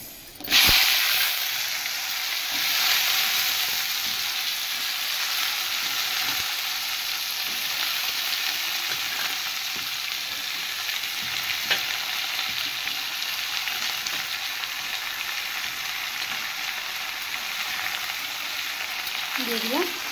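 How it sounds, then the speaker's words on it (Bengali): Washed vegetables frying with panch phoron spices in a pan make a loud, constant crackling sizzle up close, with occasional stirring scrapes and no speech over it. "সবজিগুলো যে ধুয়ে রেখেছিলাম সেগুলো আমি এর মধ্যে দিয়ে ভেজে নেব"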